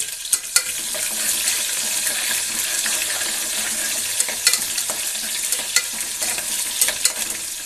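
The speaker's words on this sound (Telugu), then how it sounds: "ఈ ఉల్లిపాయలు అనేది మనకు బ్రౌన్ కలర్ వచ్చేంత వరకు వేగనివ్వాలి." Chopped onions fry with curry leaves and dried red chillies in a pan for stuffed brinjal curry, making a crackly, continuous sizzle with scattered stirring scrapes close by.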